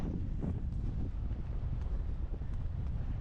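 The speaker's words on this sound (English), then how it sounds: "You can see how windy it is." Strong wind buffets the microphone with a steady low roar and gusty rumble aboard a catamaran on open Caribbean water near Norman Island, with no voices.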